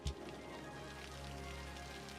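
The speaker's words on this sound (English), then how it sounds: "Oh, goodness me, it's raining" Rain in the city-building game Cities: Skylines, a faint, steady hiss of falling rain with a soft low hum beneath, continuous and without talk.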